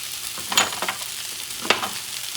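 Chicken fried rice is tossed in a hot pan, with a few sharp spatula scrapes over a soft, steady sizzle, close up and without any voices.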